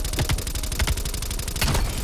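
Rapid bursts of automatic gunfire in Black Ops Cold War, loud dense cracks in quick clusters with a couple of sharper peaks, heard without any talking.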